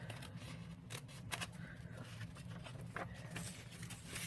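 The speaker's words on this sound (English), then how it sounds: "Let's see if I can cut this with scissors." Scissors cutting through junk mail paper up close, a series of crisp irregular snips over a low steady hum in the background.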